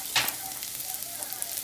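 Garlic and chopped onion hit hot oil in a pan with a sharp burst of sizzle, then settle into a steady close frying hiss.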